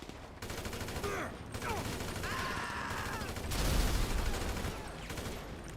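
Shotgun fire in the video game GTA Online, several sharp bursts of shots scattered across a few seconds amid other game sounds, fairly quiet overall.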